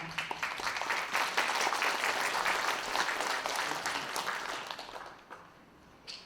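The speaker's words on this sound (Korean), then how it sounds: "여러분들의 뜨거운 박수와 함께 무대 위로 모셔보도록 하겠습니다." An audience applauds steadily as the mayor of Wonju takes the stage at an integrity award ceremony, a dense wash of many hands clapping that holds for several seconds and then thins out toward the end.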